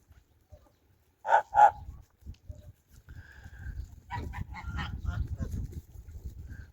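Two loud honks from young geese, including Kholmogory geese, ring out close together in frost, followed by softer scattered honking and gabbling amid low background rumble.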